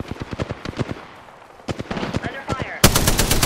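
Video game gunfire sounds as rapid bursts of close automatic shots, pausing briefly before more bursts and a dense, loud barrage at the end.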